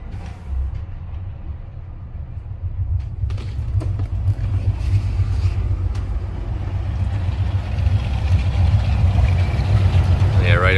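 Twin Yamaha outboard motors on a Pursuit 295 DC boat crank and settle into a low, rumbling idle that builds slightly in loudness, with a few clanks and creaks over the steady engine drone.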